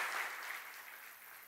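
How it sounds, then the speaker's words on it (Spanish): Congregation applauding during a Spanish-language church service, a steady wash of many hands clapping at once, fairly close and even throughout. "Dale ese aplauso al Señor, hermanas, en el nombre de Jesús."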